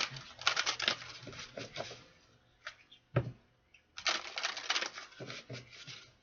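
Tarot cards are shuffled by hand, giving bursts of crisp riffling and slapping with short pauses and a single sharp tap in the middle, close and fairly quiet.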